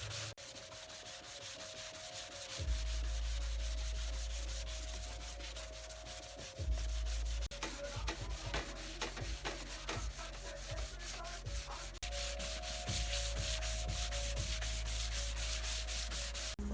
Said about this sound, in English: I hate sanding.